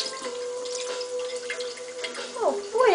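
Baby peach-faced lovebirds bathe together in shallow water, with soft dripping and light splashing over a steady tone, bird chirps rising near the end while a person talks over it.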